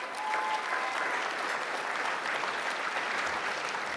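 Applause for award finalists at an ethnic business awards ceremony, a broad, even wash of clapping from a large hall audience, steady and somewhat distant, with no voices over it.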